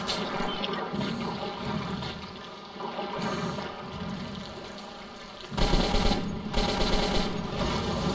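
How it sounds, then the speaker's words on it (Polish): Sustained automatic gunfire from the post-apocalyptic shooter Metro 2033, a dense continuous burst that grows louder and harsher partway through, heard alone with no voices. "Strzelam w nie."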